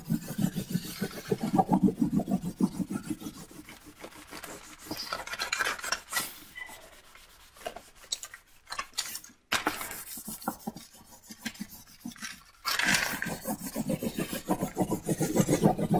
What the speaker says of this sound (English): a bit of time burnishing into the warm wax